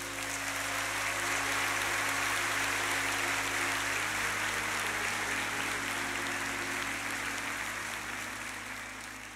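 Church congregation clapping in praise during a sermon, a steady, dense wash of many hands spread evenly across the whole stretch, slowly fading toward the end under a low hum.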